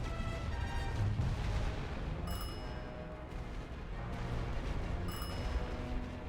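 Artillery fire in the World War I game The Great War: Western Front, heard as a dense, continuous rumble of distant booms, with two sharper high bursts standing out. The sound is fairly faint and has no speech over it.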